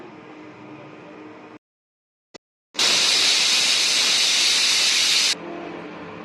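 A pressure cooker on a kitchen stove, cooking a traditional Karnataka greens bassaru, lets out a loud, sustained steam-whistle hiss lasting a few seconds, framed by quieter kitchen noise and a short silence before it.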